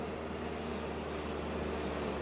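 Honeybees buzz around an open beehive, a continuous low droning hum from many insects close by, steady and unbroken over the short stretch with no talk.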